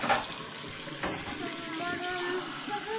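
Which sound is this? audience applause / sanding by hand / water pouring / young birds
water pouring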